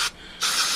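Brake cleaner sprays onto engine sensors of a K20A2 engine in two short close hissing bursts separated by a brief pause.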